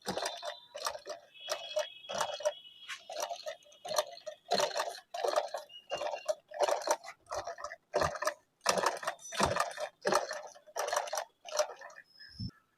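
A domestic sewing machine that is skipping stitches runs in steady mechanical clatter, its rapid ticking needle strokes coming in quick bursts with brief pauses, fairly close and without talk.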